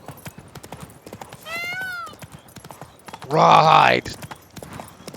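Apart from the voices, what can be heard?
horse Roach trotting in The Witcher 3 video game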